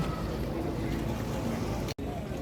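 Boats on Lake Annecy, France, in a steady, close wash of broadband rumble that runs throughout, broken by one abrupt dropout near the end.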